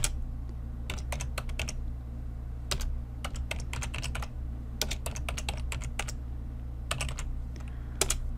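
Keys clatter steadily on a computer keyboard as VBA code is entered, with bursts of fast clicks separated by short pauses over a constant low electrical hum.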